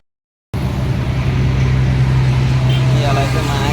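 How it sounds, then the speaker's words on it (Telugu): A bus pulls in at the BP Nagar bus stop beside the road, its engine giving a loud, close, steady hum and drone with a low tonal whine, mixed with roadside traffic noise. "ఇప్పుడే బస్సు వచ్చింది."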